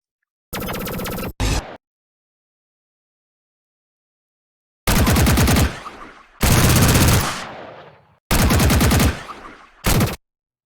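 Designed gun sound effects from a sound design reel: loud bursts of rapid automatic gunfire in several separate volleys with sharp cutoffs, the middle ones trailing off in echoing tails, separated by a long silence.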